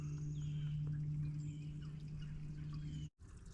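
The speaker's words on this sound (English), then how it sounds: "Yeah, I can hear trickling water." Water trickles and drips steadily in a cave beside a lake under a low, constant hum, with a brief drop in sound near the end.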